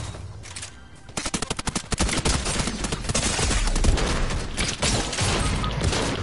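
Rapid gunfire shooting eggs in the video game Fortnite, beginning after a short quiet stretch and then building into a dense, loud stream of quick shots and bursts that continues to the end.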